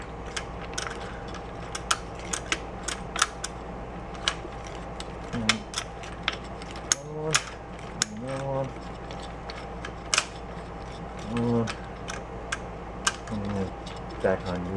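Gears shift on the transmission of a 1972 Honda SL125 motorcycle under repair: sharp mechanical clicks and clunks repeat irregularly, close by, over a low hum, with a few quieter knocks between.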